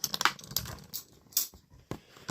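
Light crinkling and sharp plastic clicks come from a taped-in toy flute being worked free of its action-figure packaging, in scattered short bursts close by, with no talking.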